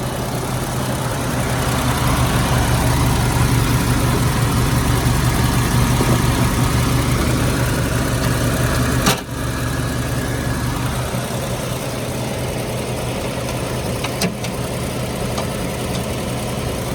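A Chevrolet 250 six-cylinder engine runs steadily in a car, a loud continuous hum and rumble that holds level throughout, with one brief thump near the middle and no voices.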